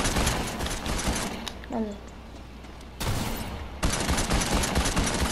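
Gunfire from a player's weapon in Fortnite, season 6, rapid broadband bursts of shots in two stretches separated by a quieter gap, with a voice speaking briefly over the action.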